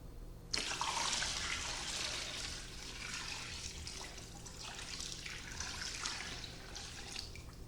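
Water pours into a bin of torn scrap paper, starting abruptly with a splashy rush and settling into a soft, continuous trickle, faint and alone.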